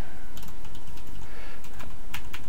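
Rapid, loud clattering keystrokes on a computer keyboard, bursts of irregular tapping packed close together over a short stretch, with no speech.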